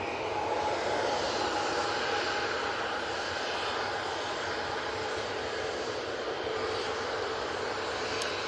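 A Boeing 737 jet comes in to land at Manchester Airport, with a sustained, even engine roar that stays loud and constant throughout.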